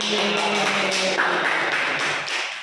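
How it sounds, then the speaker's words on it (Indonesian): A classroom group claps together, a dense burst of applause from many hands, close and steady, tapering off toward the end. "kasih tepuk tangan"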